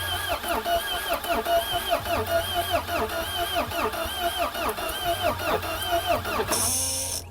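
A diesel Citroën C15 engine cranking steadily on a weak battery, with a repetitive, labored rhythm that goes on for several seconds without catching; a voice is faintly present beneath.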